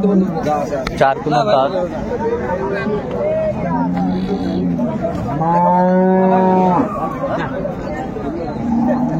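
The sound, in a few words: cow and calf mooing at cattle market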